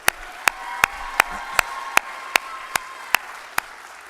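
Slow, evenly spaced claps, about ten in steady rhythm, ring out over a soft crowd background as school play award winners are applauded a second time.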